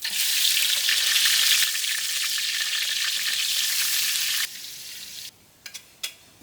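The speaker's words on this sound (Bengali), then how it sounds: "মাছ ভাজার জন্য সয়াবিন তেল দিলাম তেলটা একটু গরম হোক তারপরে মাছগুলো ভাজবো" Fish sizzling loudly in hot soybean oil in a village kitchen, a dense steady crackle that fades to a softer fry after a few seconds, with a few sharp clicks and taps near the end.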